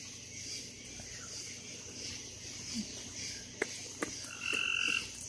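Tree frogs croak and trill faintly in a quiet night scene, with a few sharp short calls and a brief high trill near the end.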